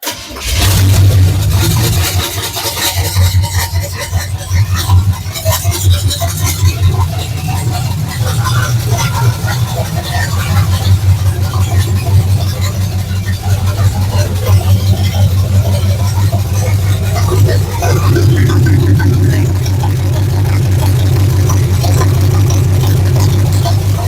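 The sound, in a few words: engine starting and running after priming carburetor with B12 Chem Tool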